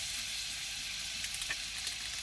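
Steady broadband sizzle of wontons frying in a pan with melting fat, continuous and close, with a few brief crackling pops, no talking.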